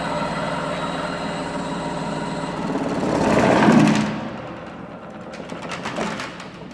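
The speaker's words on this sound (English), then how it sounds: "you wouldn't even hear any of that rattling if it was bolted down to your floor" A Giant Finishing GB-3 finishing machine sitting unbolted on a skid runs with a steady loud mechanical rattle and hum that swells briefly, then eases to a lower drone.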